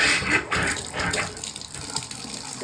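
Brown, discolored water gushes from a tap into a sink or tub at a rental home, a steady close rush of running water with no voices.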